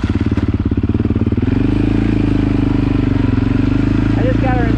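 A Honda 700XX and a Yamaha Raptor 700R ATV idle and rev loudly up close while riding in the rain, a throbbing engine drone that rises in pitch after a brief steady patter, with talk over it.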